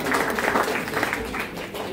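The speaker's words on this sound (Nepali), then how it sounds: "ल एकचोटि जोडदार ताली" An indoor audience at a health program talk in Pokhara claps together in a dense, continuous burst of applause that fades slightly toward the end.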